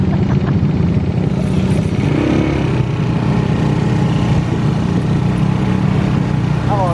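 A motorcycle engine runs loud and steady throughout, its throttle held open so the tone holds with only slight swells, and voices talk over it.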